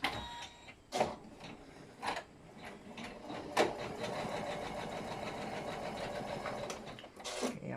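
Janome 500 embroidery machine stitching a design, a steady close mechanical whirr with rapid needle clatter running throughout, punctuated by a few louder clunks near the start and end.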